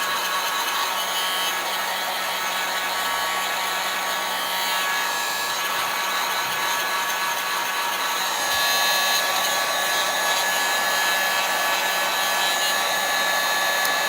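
A steady, loud hair dryer roars close by while drying paint on a wooden tier tray, its airflow holding constant with slight shifts as it moves, and no voices over it.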